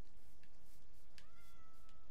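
A Minecraft cat in the video game gives a single clear, faint meow, rising then held, over a quiet steady background.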